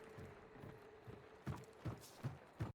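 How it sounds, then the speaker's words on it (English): Footsteps in the video game Hunt: Showdown, a steady run of soft thuds that gets a little louder and nearer toward the end, with no talk over them. "We're hearing footsteps around here, so they're still in this location."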